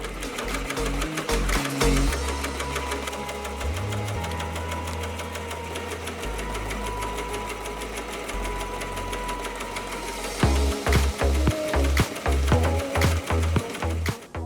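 A hat embroidery machine stitches a 3D puff design in rapid, continuous mechanical rattling, its pace shifting between bursts, close and steady throughout with no voices.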